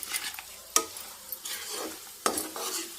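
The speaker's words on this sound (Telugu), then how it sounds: "బెండకాయ వేపుడు." Sliced okra stir-fried in a pan, with coconut added near the end: a quiet sizzle underneath, broken by two sharp scraping clicks of the spatula and softer stirring swishes between them.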